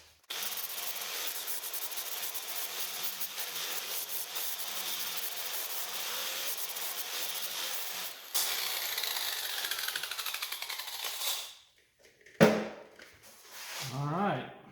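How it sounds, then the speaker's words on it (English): A flap disc grinds on steel parts of a 20-ton shop press during final fabrication, a loud sustained abrasive rasp with shifting pitch that cuts off near the end, followed by short scraping bursts. "touch it up with the flap disc and bolt her on"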